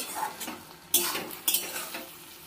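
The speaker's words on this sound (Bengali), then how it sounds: "ভালো করে কষিয়ে নেব।" Vegetables being stirred and sautéed in a pan for a Bengali drumstick stem and potato dish, with scraping spoon strokes over a steady sizzle and two sharper clanks of utensil on pan, fairly close and with no talk.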